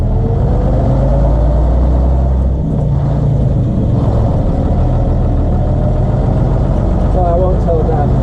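AEC Regal bus engine revving up and quickly dropping back, a deep rumbling diesel heard from inside the bus, loud and continuous, with people talking over it.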